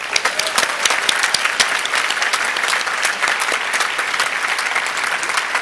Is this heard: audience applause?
yes